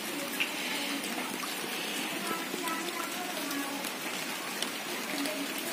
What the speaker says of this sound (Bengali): বৃষ্টি অঝরে ধারায় সে কাল রাত থেকে পড়েই চলেছে।